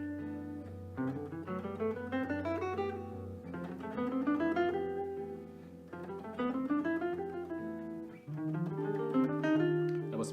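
Clean jazz guitar runs up and down a C Lydian scale in a lesson on a jazz tune, with smooth, evenly picked single notes rising in repeated phrases over sustained bass tones, played alone with no talking.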